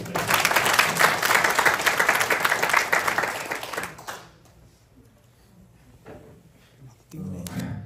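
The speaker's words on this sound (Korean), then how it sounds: "박수 한번 부탁드립니다" An audience at a Jeju New Year special lecture breaks into loud, dense applause for about four seconds, then it cuts off to near quiet before another short burst of noise.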